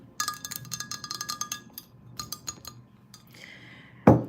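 A glass olive oil bottle clinks in a kitchen, a quick run of bright, close taps and rattles, then a pause and one heavier knock at the end.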